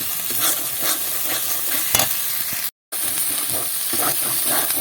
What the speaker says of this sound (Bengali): এই যে দেখুন মশলাটা প্রায় ভাজা ভাজা হয়ে গেছে